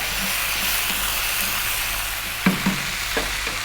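Vegetables and tofu sizzle in a hot pan as they are stir-fried, a steady frying hiss broken by a few sharp knocks of the spatula against the pan near the end.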